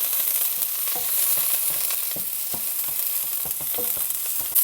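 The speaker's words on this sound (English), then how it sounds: "green onions that I'm going to saute nicely inside here first" Green onions sautéing in a pan give a loud, continuous frying sizzle with scattered crackles and stirring scrapes, close up, with no speech.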